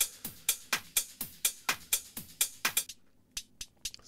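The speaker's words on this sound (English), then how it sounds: "This is obviously a very hip-hoppy hat." A hip-hop style hi-hat drum sample from a drum bus plays as a steady run of crisp, bright hits, close and clean. A few sparser, ringing hits follow near the end.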